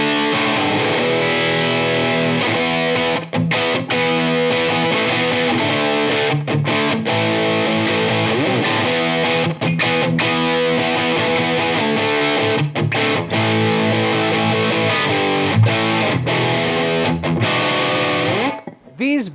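An Epiphone SG electric guitar with a Vibrola tailpiece plays heavily distorted riffs and sustained chords through effects, loud and continuous with brief rhythmic gaps between phrases.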